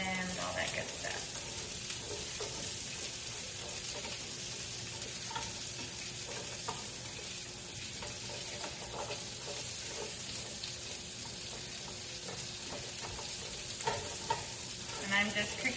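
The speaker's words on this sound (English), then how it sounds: "I'm just cooking this in the bacon grease." Food fries in bacon grease for a Thanksgiving side dish, a steady close sizzle and crackle with occasional stirring scrapes, fairly quiet overall.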